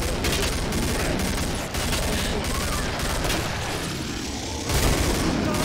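Dense, continuous gunfire in the zombie-shooter game Killing Floor, rapid overlapping shots and bursts filling the whole stretch at close, loud range with a heavier blast near the end.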